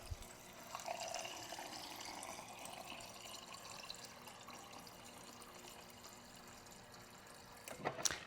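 A GE refrigerator's door water dispenser runs a steady stream into a glass of ice for several seconds, a continuous close pouring hiss that cuts off near the end with a short clatter.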